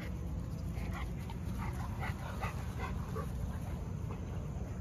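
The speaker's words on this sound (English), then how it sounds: "Got the three Camelot dogs out here with the Presa Canary" Three Camelot dogs and a Presa Canario give a run of short yips and whimpers over a constant loud rumble of wind or handling noise, the calls fairly close and repeated in quick succession.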